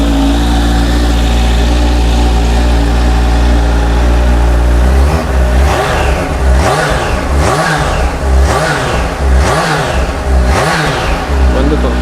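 Kawasaki Z H2 supercharged naked motorcycle running loud and close at a dealer launch event, holding a steady idle before a run of repeated sharp throttle blips that rise and fall.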